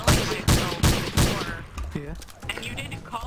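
Gunfire in a first-person shooter video game: four loud, evenly spaced shots in quick succession, then quieter game sounds and a brief voice.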